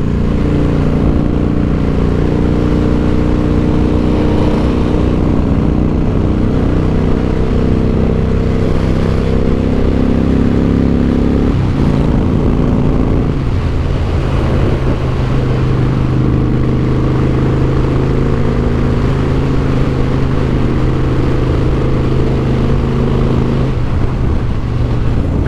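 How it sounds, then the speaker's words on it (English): A Harley-Davidson Softail Deuce engine drones loudly and continuously while riding, its exhaust note rising and falling with shifts in throttle, heard up close with wind noise. "but definitely hear the exhaust."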